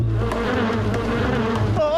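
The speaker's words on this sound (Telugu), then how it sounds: "తేనెటీగ వచ్చింది." Cartoon bee buzzing from a Boonie Bears Telugu animated episode, a steady loud drone that fills the clip amid busy animated sound, ending in a wavering pitch sweep.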